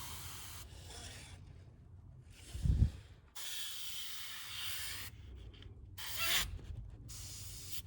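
An airbrush sprays paint in several separate hissing bursts of a few seconds each, close and steady, with brief pauses and light handling noises between them.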